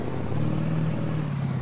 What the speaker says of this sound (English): Let's have a listen at the engine here.